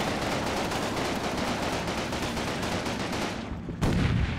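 Sustained machine gun fire from a Combat Mission Final Blitzkrieg battle at Chaumont, a dense, continuous rattle of rapid bursts that holds steady for several seconds before a heavier thump near the end.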